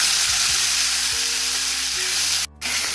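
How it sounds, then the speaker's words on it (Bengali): A ginger, garlic, onion and tomato paste fries in oil in a wok with a loud, steady sizzle, a few low knocks of stirring underneath, and a short break near the end before the hiss resumes. "কড়াইয়ের মধ্যে তেল দিয়ে দিয়েছি, এবার দিয়ে দেবো মশলা, যেটা আদা রসুন পেঁয়াজ টমেটো বাটাটা দিয়ে দেবো।"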